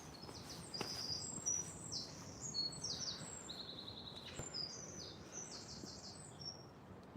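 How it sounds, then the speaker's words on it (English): A bird calls just overhead among the green spaces off the Royal Mile, repeated short high chirps scattered over a steady hiss of outdoor background noise. "Oh, that would be a bird just above my head."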